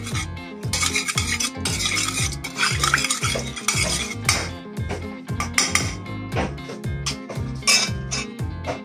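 Gizzards stirred in a metal pot with a spoon, seasoned with pepper; steady rhythmic scraping and clinking of the utensil against the pot, close and fairly loud, with no talk.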